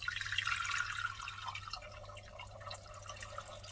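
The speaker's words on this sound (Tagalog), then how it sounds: "Lagyan natin ng tubig." Water pours from a tap into a pan set up for steaming potatoes, a quiet continuous splashing trickle that thins after a couple of seconds, close and without talk.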